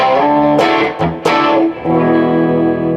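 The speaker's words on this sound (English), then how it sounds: "when I dig in a little bit, you can hear some of that natural distortion" An electric guitar plays a sustained, gritty chord with light natural amp overdrive, a couple of sharper picked attacks breaking up the ringing tone before it settles again.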